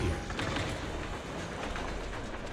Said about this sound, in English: Oh, why are the trains so dramatic?